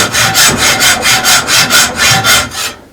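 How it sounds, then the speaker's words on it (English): Hand saw cutting through a heavy cast iron drain pipe, steady back-and-forth strokes in an even rhythm, about ten close, loud rasping passes with no talking. "So I'm going to keep cutting until we get a lot closer. So we're cutting."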